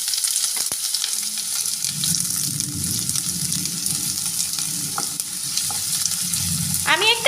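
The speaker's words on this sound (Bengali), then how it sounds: "আমি এবার পেঁয়াজটা ভালো করে ভেজে নেব।" Onion frying in hot mustard oil in a wok, a steady close sizzle with occasional scrapes and clinks of stirring, no talking.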